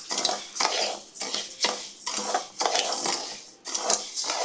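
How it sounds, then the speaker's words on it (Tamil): Almonds and rice dry roasting in a pan over a medium flame, stirred steadily so the grains rattle and scrape against the metal in repeated bursts of roughly half a second each. "இது வந்து ட்ரை ரோஸ்ட் பண்ணிட்டுருக்கோம். மீடியம் ஃப்ளேமில் வச்சு நம்ம நல்லா வறுத்துக்கலாம்."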